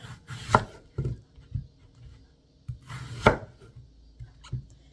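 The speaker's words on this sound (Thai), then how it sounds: "หั่นเป็นลูกเต๋านะคะ" A knife cuts a honey-core apple into small dice on a cutting board, giving sharp, separate thuds in an uneven rhythm with quiet pauses between them, close and alone.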